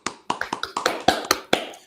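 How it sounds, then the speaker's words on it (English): One person close by claps a quick, brief burst of about nine hand claps in a quiet studio during a sports talk show, with no voices over them. "Round of applause."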